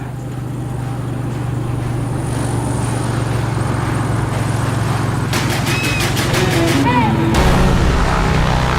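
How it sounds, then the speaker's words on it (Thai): A loud, steady engine drone with a low hum builds as a landing airplane passes close, a voice briefly talking over it near the end. "อันนี้ก็เป็นเสียงเครื่องบินกำลังลงนะครับ"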